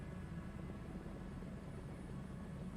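A helicopter flying in Microsoft Flight Simulator 2024 gives a steady, continuous low rotor drone with a rumbling, even texture, moderately quiet and unbroken throughout, with no talk over it.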